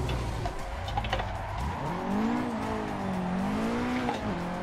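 A Nissan S13 braking into a drift on a touge-style circuit, engine note dropping then holding a droning tone while the tires squeal in a long wavering howl, close and fairly loud, no voices.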